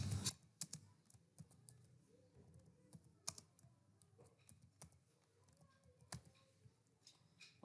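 Keys tapped on a computer keyboard while a name is entered into a WordPress plugin setup form, with soft irregular clicks in scattered short bursts and a few louder strokes in an otherwise quiet room.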